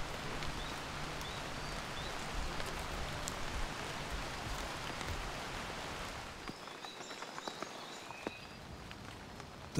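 Torrential tropical rain pours steadily in a Madagascar rainforest, a dense continuous hiss of drops on foliage that eases slightly toward the end, with faint insect or bird calls emerging.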